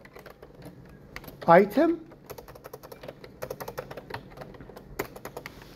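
Code is typed on a computer keyboard as a quick run of close, crisp key taps, with short bursts and pauses between them. Someone speaks briefly near the start.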